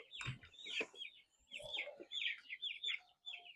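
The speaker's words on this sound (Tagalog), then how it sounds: "Saka native chicken." Native chickens mixed with chicks in a backyard farm flock, clucking and cheeping in several overlapping close bursts with steady chirping throughout.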